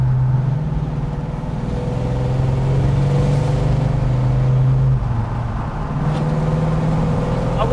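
Dodge Charger engine running with a steady low droning rumble, held at a constant level throughout without a clear rise in revs, close and alone with no talk.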